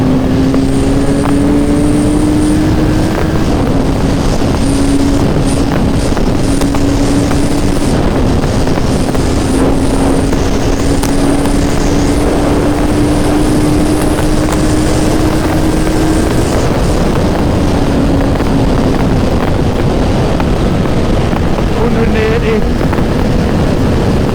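A Gen 2 Suzuki Hayabusa GSX1300R motorcycle ridden at speed, a loud continuous engine drone with heavy wind roar and slight pitch changes, with a rider talking over it.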